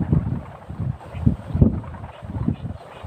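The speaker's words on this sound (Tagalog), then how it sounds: "Malakas yung hangin." Strong wind in open rice fields in the countryside, gusting in uneven surges that buffet the microphone as a rough, steady roar.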